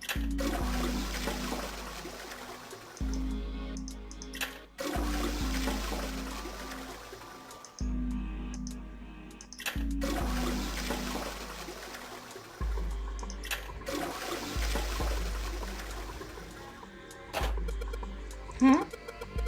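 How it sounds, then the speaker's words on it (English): Toilet flushing in the video game Zero Escape: 999, repeated several times as rushing water bursts over a looping low game music bed, with a voice talking at points. "I heard a loud flushing noise."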